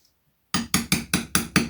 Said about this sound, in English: Just a small hammer will do.